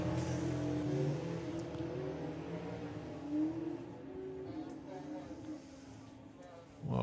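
A drag racing car at Bug Jam spins and blazes its tyres on launch, a loud sustained engine roar and tyre squeal heard from a distance, with a commentator talking over it throughout.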